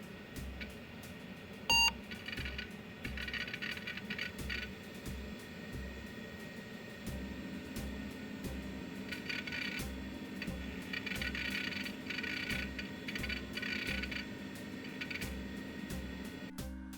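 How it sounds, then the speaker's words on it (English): An old Conner computer hard drive runs close by, holding a steady whir while soft ticks and clicks repeat at a fairly regular rhythm, with one sharper tick early on. "My hard drive actually was a Connor though, a Connor hard drive, and it has a very unique sound."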